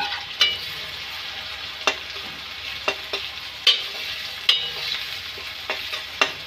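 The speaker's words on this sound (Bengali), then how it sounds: "পেঁয়াজ কুচিগুলো আমরা মিডিয়াম আঁচে আমরা ভেজে নেব।" Chopped onions frying in oil over medium heat for a country chicken curry, a steady hiss of sizzling punctuated by regular sharp scrapes of a stirring spoon against the pan, close and alone.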